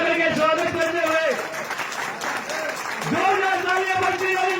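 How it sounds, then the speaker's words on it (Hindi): A village crowd applauds as BJP candidate Harvinder Kalyan is welcomed with a turban. A burst of clapping swells in the middle, while a loud amplified voice speaks or chants over it before and after. "पगड़ी पहना करके स्वागत करते हुए जोरदार तालियां बजती है"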